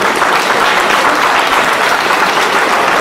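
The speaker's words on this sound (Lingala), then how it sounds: "tozali kobanga mpona kobeta maboko tokobetelaka tata Nzambe maboko" A church congregation claps loudly and continuously, a dense, sustained wash of applause from many hands close by.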